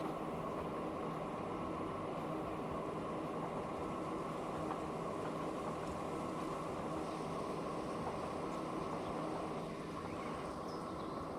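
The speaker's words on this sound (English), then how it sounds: "here's the other train coming back" Train running through a curved tunnel in Transport Fever 2, a steady faint rumbling roll with a continuous mechanical hum, even and unbroken throughout.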